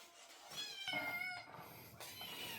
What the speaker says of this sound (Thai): แมวจรจัดพี่น้องเอ้ย